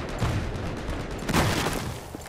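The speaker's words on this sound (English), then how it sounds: "There's a lot of explosions and stuff" Gunfire and explosions in the Battlefield 4 video game burst out in dense, overlapping volleys, loud and close, peaking in a heavy crack about halfway through.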